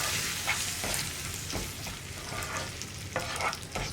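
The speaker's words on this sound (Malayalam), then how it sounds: "ഇനി ഒന്ന് ഇളക്കി മിക്സ് ചെയ്യാം." Thick puli inji, a tamarind-ginger curry, is stirred in a pan just after a coconut oil tempering is poured in. A low sizzle runs underneath while a spoon scrapes and stirs close by in irregular strokes.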